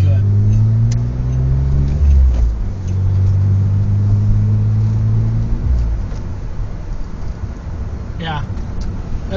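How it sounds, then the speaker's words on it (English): A 2006 Pontiac G6 GTV with a manual gearbox drones steadily from inside the cabin, its low engine note shifting as it changes gear, loud and close, with faint talking mixed in. "that's Herv's new toy, 2006 Pontiac G6 GTV"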